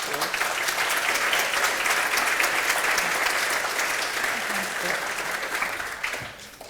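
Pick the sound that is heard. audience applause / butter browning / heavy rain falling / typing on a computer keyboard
audience applause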